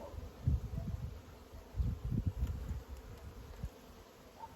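Honey bees buzz in a low, uneven drone close by, with soft rustling and bumps from handling the hive.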